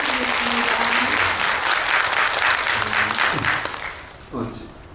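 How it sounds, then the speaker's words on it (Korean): Cinema audience applause after a film talk event, loud sustained clapping from a large crowd while a voice speaks over it, fading toward the end with a brief burst of speech. "큰 박수 부탁드리겠습니다"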